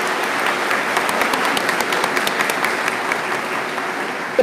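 Audience at a 2019 university convocation in Zanesville, Ohio claps for the board members on stage, a dense, even, fairly loud round of applause with crisp individual claps standing out, sustained through the whole span.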